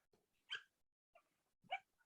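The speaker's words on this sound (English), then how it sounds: "I'm hearing nothing except for the dog yipping and yipping here" A dog yips in short, sharp bursts, three main yaps spaced apart with faint whimpers between them, heard close and fairly quiet in an otherwise silent room.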